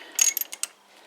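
A socket ratchet loosening a fork bolt on a Honda Deauville NT650 motorcycle, giving a short burst of four or five quick metallic clicks up close, then quiet.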